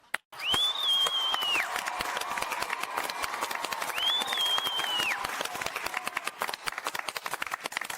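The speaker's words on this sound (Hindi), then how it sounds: "तालियां।" Steady applause from a crowd fills a scene in a Hindi TV sitcom, with a whistling tone rising and falling twice over the clapping.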